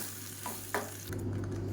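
Batter bubbling and sizzling softly in a pan, a steady low simmer with a couple of small stirring clicks, close by and fairly quiet.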